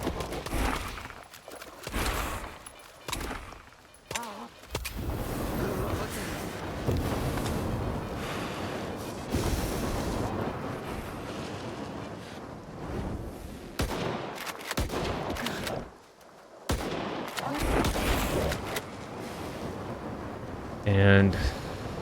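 Bursts of gunfire in the S.T.A.L.K.E.R. 2: Heart of Chornobyl shooter, loud and dense through most of the stretch with brief gaps, mixed with game ambience and someone talking over it.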